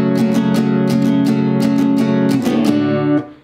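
Acoustic guitar strummed quickly through a song's chords in a fast, even rhythm of bright strokes, close and loud, ending with a brief fade; no voices.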